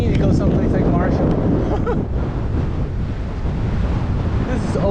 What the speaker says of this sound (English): It's crazy how big the wind is.